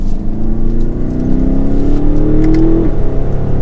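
A 2022 BMW X7 M50i xDrive accelerates hard from inside the cabin, its engine pitch rising in one loud, continuous rev that peaks and then eases off near the end, with no one talking.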